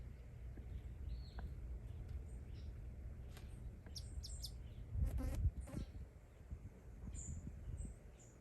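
Small yellow birds chirp in short high tweets scattered over a low outdoor rumble in a garden, with a cluster of brief calls in the middle.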